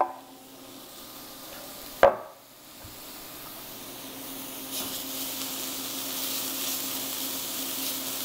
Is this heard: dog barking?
no